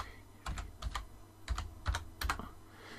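Computer keyboard typing as a word is entered into Google Docs research search, with short bursts of key clicks in three or four clusters, close and moderately loud, with no talk.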